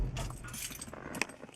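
Keys jangle close up as a 1974 Chevy Nova is shut off, a brief metallic clinking flurry ending in a sharper jingle, with no voices.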